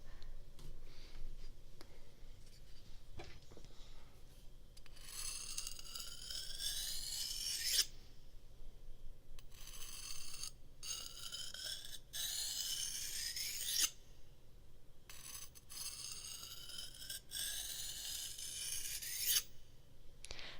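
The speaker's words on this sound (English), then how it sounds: "Okay, we'll do knife sharpening first." Knife blade drawn across a sharpening stone in three long rasping sessions of repeated gritty strokes, each several seconds of close scraping separated by short pauses, with faint background hum and no talk.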